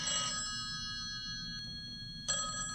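A telephone rings in a quiet room with a stacked electronic ringtone, one burst at the start and another near the end, with a long silent gap between them.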